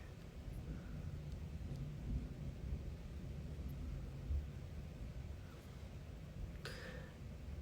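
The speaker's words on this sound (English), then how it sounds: "Do you hear the thunder?" A low, rolling rumble of distant thunder, faint and steady beneath light background noise, with no talking.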